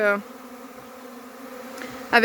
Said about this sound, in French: Vu la taille de l'essaim, je pense que c'est ça doit être un essaim primaire